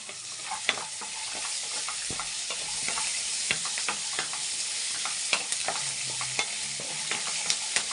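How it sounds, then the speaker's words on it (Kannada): Garlic and curry leaves fry in hot oil for a tomato chutney, a dense close sizzle dotted with sharp crackles and pops, steady throughout with no voices. "ಸ್ವಲ್ಪ ಸ್ವಲ್ಪ ಚ ಫ್ರೈ ಆಗಲಿ ಇದು ನೋಡಿ ಈಗ ಫ್ರೈ ಆಗಿದೆ"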